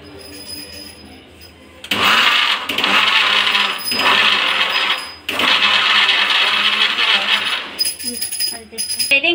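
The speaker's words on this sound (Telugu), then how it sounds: "గ్రైండ్ చేసేస్తాము. చూడండి" A mixer grinder grinds a spice paste for stuffed brinjal curry in a loud, whirring burst that starts about two seconds in, runs in a few long pulses with brief pauses between them, and tapers off near the end.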